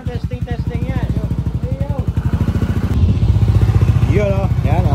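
A motorcycle engine with a 36mm throttle body idles nearby in a loud, steady chug, then picks up into a slightly higher, fuller rev. People talk over it throughout.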